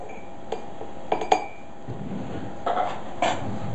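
A metal spoon stirs freshly made tea in a glass, giving a few light, ringing clinks at uneven intervals, close by and fairly quiet against a soft room hiss.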